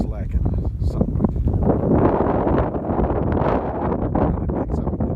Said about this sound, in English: the great wind vortex begins to slacken somewhat